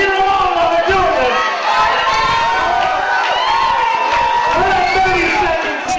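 Lively crowd cheering and whooping at an oyster shucking competition during a festival heat, continuous loud shouting and encouragement with overlapping voices throughout.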